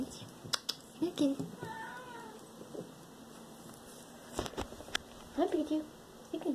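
A cat meows twice in drawn-out, wavering calls, one early and one near the end, fairly close and moderately loud, while a person speaks softly nearby.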